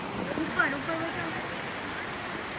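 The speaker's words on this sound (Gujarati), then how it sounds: "જો ફૂલ વરસાદ હવે તો દેખાય" Constant broadband rain noise fills the clip at Saputara hill station, a steady heavy patter with a brief faint voice early on.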